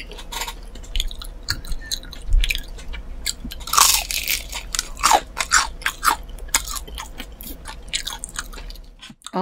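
Crunchy fried chicken with spicy mayo and mustard sauce is bitten and chewed up close, with loud crisp crunches and moist chewing in an irregular rhythm and no talk.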